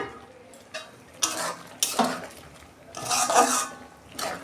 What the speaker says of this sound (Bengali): দেখুন বন্ধুরা, ঢাকনা খুলছি